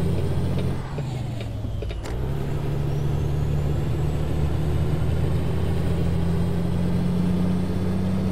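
A video-game heavy truck engine, a Kenworth T680 with an N14 Select Plus, drones steadily at a low, even pitch throughout, with a brief mechanical shift near the start and no talking.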